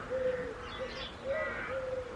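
Birds call outdoors on a freezing morning near 1 °C, with steady tonal whistled notes in several drawn-out phrases over a soft, noisy background, moderately close.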